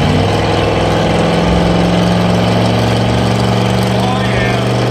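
A 6.2 Detroit Diesel V8 running loud and close, a dense steady diesel clatter and rumble at idle with slight throttle swells, unbroken throughout.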